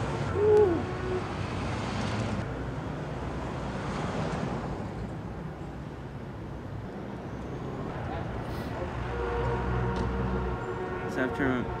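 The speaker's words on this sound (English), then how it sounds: "get this bird off me" A bird hoots in the Stack the States video game, an owl-like call heard near the start over a constant wind-like roar, with further faint calls later.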